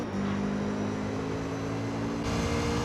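Loud, steady engine drone from a mid-rear-engined car in Gran Turismo 3 on the Trial Mountain track, holding an even pitch throughout with no talk.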